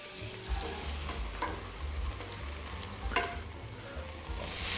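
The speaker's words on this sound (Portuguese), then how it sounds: "Começou a dourar a nossa carne." Beef frying in oil on high heat in a pressure cooker gives a continuous close sizzle with occasional stirring scrapes and pops, steady and moderately loud with no talk.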